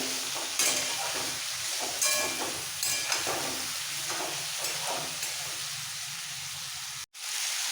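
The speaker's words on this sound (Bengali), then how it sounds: "সব সবজি হালকা ভাজা হয়ে গেছে" Vegetables for a rohu fish curry with drumsticks frying gently in a pan, a soft continuous sizzle and hiss with faint occasional stirring, alone, cutting off abruptly near the end.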